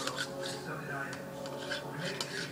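A spoon stirring a homemade gross drink mixture in a cup, a continuous close scraping and clinking swirl with light rubbing texture, while a voice talks over it.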